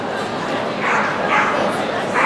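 A Pyrenean dog barks and yips in a few short bursts during a large-team agility competition, with crowd noise and commentators talking throughout.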